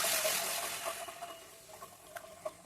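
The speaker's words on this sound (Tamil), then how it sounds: "தேவையான அளவு தண்ணி ஊற்றி கொதிக்க விடணும்" Water is poured into a pan of sautéed mushroom curry base, giving a soft, close patter and splash that fades to scattered drips and light bubbling.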